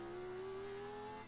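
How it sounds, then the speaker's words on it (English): A game car engine from Granblue Fantasy revs with a rising tonal whine as it speeds away, held steady and fairly quiet, alone without speech. "The youth revs his engine and speeds off."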